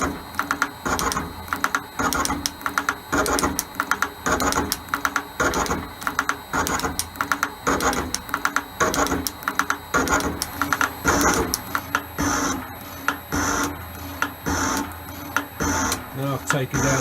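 An Elliott 10M metal shaper cuts a part, its ram stroking back and forth in a steady rhythm of sharp clattering bursts at close range, with a voice talking over the machining.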